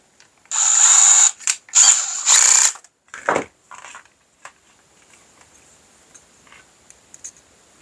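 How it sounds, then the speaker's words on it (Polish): A few short bursts of high-pitched drilling whine from a 6 mm drill bit enlarging a hole, close and loud, followed by faint clicks and scraping as the work settles. "Widzę, że jest za małe poprawię to wiertłem szóstką."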